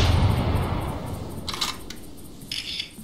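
A rifle fired at an animal in a hunting video game, heard as two short sharp cracks with hissy high tails, the first near the middle and another later, over a low rumbling ambient bed.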